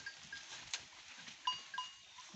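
Goats on a farm in Nepal bleat faintly in a few short, scattered calls at a distance, against a quiet outdoor background with no talking.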